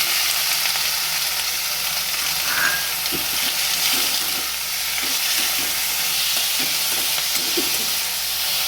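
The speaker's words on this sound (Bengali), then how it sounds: "নাড়াচাড়া করে দিয়ে দিলাম টমেটো" Tomato with green chilli and curry leaves frying in oil for moong dal, a loud, steady hiss of sizzling with soft rhythmic stirring scrapes from a spatula, close up and continuous.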